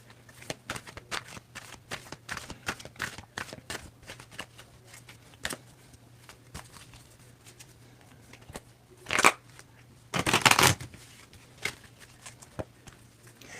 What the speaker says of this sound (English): tell me when I need to stop shuffling